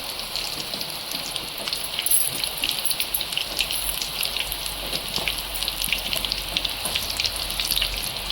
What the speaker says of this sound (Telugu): వర్షం అయితే ఇప్పుడే స్టార్ట్ అయింది.